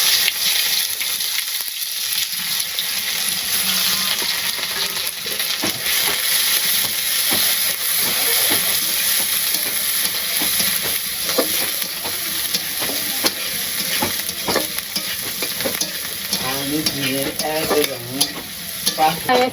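Spice paste for a village-style chicken curry frying and being stirred in a pan, a loud continuous sizzle with steady scraping strokes throughout and no talking.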